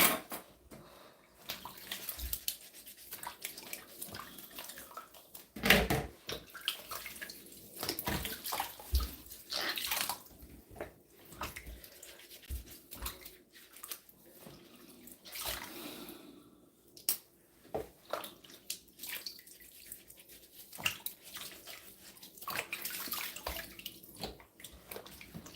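Water running from a kitchen tap while celery and other vegetables are washed and scrubbed for juicing, an uneven splashing stream broken by clatters and brief louder bursts, fairly close, with no talk.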